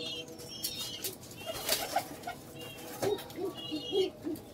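Pigeons in a loft give a series of low, soft coos, several short calls clustered near the end, over a steady background hum with some wing and movement noise.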